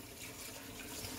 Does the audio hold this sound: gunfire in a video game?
no